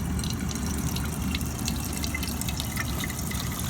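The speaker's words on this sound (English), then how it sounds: "gonna pour some water" Lake water trickles and drips through a homemade filter, a steady close wet patter with faint higher drips over a low outdoor rumble, no voices.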